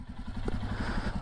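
A Himalayan motorcycle fitted with a booster and an AIS mod idles close by with a steady, even thumping beat and some light mechanical clatter. No voices.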